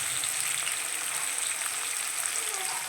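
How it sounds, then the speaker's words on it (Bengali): Pointed gourd and potato pieces fry in a pan with a steady, dense hiss of sizzling oil, close and continuous without pause. "পটলটা ভাজতে বসিয়ে দিয়েছি। পটল কিছুটা ভাজা হয়ে গেছে। এই যে আলুও ভাজতে বসিয়ে দিয়েছি"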